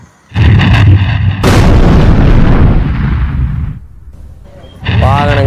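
A loud vehicle explosion bursts out and rumbles with debris for a couple of seconds before fading, followed by a short sound at the end.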